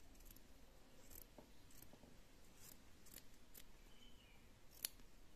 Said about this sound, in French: je peux couper ma piqûre parce qu'elle ne me sert plus à rien